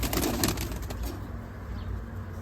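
Blue Mardin breed breeding pigeons in a loft, a soft rustle of wings and faint cooing under steady broadband background noise, fairly close.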